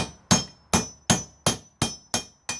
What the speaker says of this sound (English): Lighter hammer blows.